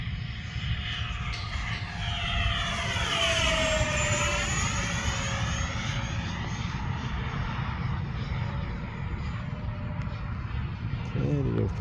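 An EDF YF-17 Cobra RC jet flies at three-quarter throttle, its ducted-fan whine steady and loud, with the pitch gliding as it passes overhead and moves away.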